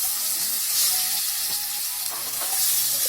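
Cut potato pieces hitting hot oil with whole cumin and bay leaf, a steady loud hiss of sizzling with light stirring clicks, close and continuous without talk.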